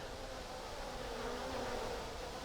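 Honeybees swarm around a hive full of drones, producing a dense, continuous buzzing hum that is steady and close, with no voices.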